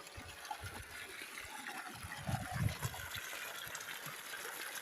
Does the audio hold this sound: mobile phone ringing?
no